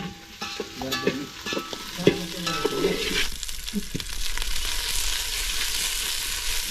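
Cauliflower dry-roasts in a pan in a village-style kitchen. Close spatula scrapes and clatters come first, then a steady hiss and sizzle builds and holds to the end. There is no talk.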